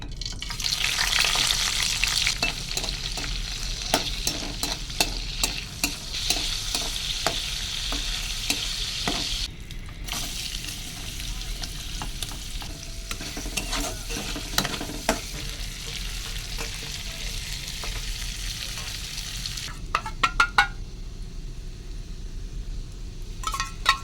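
Prawn curry fries in a pan, a steady close sizzle broken by repeated scraping and clinking stirs of a spatula against the metal, with brief pauses where the frying quietens before resuming.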